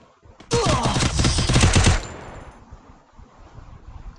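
A video game gun fires a rapid automatic burst, loud and dense for about a second and a half, then drops to a low background hum.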